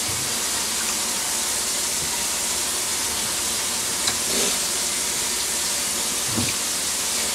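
Cabbage sizzling in a hot pan for Southern-style stir-fried cabbage, a moderate, even hiss of frying and steam that continues throughout, with a couple of faint clinks.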